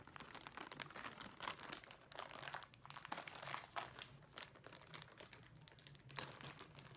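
Close, crackly crinkling of plastic as a bag holding compressor cushions is pulled and torn open by hand, quiet and continuous with irregular bursts.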